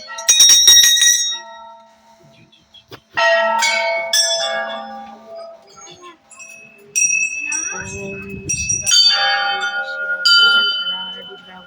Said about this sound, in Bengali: চলুন, আমরা অনেকগুলো ঘন্টি বাজালাম।